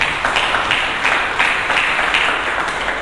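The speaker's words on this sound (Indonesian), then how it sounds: "Mari kita berikan tepuk tangan bagi" Applause from a church congregation during a Sunday sermon, a steady wash of many hands clapping at moderate loudness throughout, with no voices rising above it.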